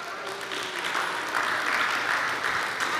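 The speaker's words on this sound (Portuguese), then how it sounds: "Quantos podem aplaudir o Senhor?" A church congregation claps for the Lord, a thick, continuous wash of applause that swells slightly midway and stays loud with no speech over it.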